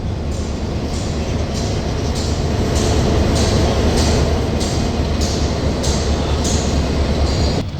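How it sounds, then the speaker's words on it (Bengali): The Burimari Express, hauled by Hyundai Rotem 3000-series locomotive 3011, pulls out of Dhaka's Kamalapur station with a loud, steady rolling rumble and regular clacks of wheels over rail joints. "ট্রেনটি প্রায় চৌত্রিশ মিনিট বিলম্বে ঢাকার কমলাপুর রেলওয়ে স্টেশন ছেড়ে যাচ্ছে"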